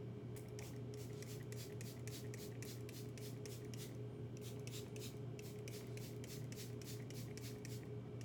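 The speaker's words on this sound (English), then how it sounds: "Just gonna give it some sprays." Rapid series of short spray bursts from a product bottle misted onto a frontal wig, about twenty quick hisses in steady rhythm at close range over a constant low background hum.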